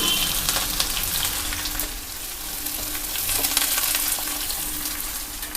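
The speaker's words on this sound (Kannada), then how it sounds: "ಸಾಸಿವೆ ಸಿಡಿತಾ ಇದೆ" Mustard seeds, urad and chana dal, green chilies and onion fry in hot oil with a dense, steady sizzle and crackle, close and loud with no talk.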